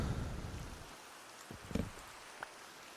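Rain falling in Minecraft, a broad steady wash that fades out after the first second, followed by a few soft scattered taps and thuds in near quiet.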